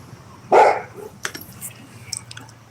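A pet dog gives a single loud, close bark, followed by a few fainter scuffles and small noises in a quiet indoor setting.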